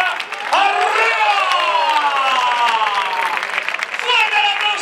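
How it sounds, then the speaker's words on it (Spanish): A crowd at a bullfighting recortes contest in Peralejos de Abajo applauds and cheers, a sustained wash of clapping under excited shouting and a loud announcer's voice. "¡Fuerte el aplauso para Paquito Murillo!"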